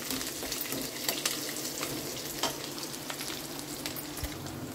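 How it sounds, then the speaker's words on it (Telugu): Chana dal and onions frying in oil in a pan for a breakfast dish, an even crackling sizzle with light intermittent stirring clicks. "పప్పులు మంచిగా ఫ్రై అయినాయి."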